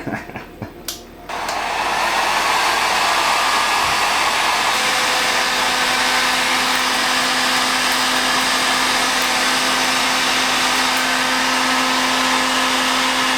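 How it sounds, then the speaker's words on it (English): A heat gun on its hot setting roars steadily and loud at close range after a few brief clattering knocks, blasting the skin of a rolled porchetta pork roast to crackle it. "So I'm going to blast it with my heat gun."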